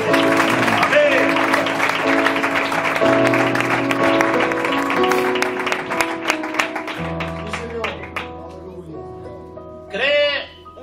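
Congregation in a church service clapping with rhythmic taps over sustained instrumental notes and voices, the clapping thinning out toward the end.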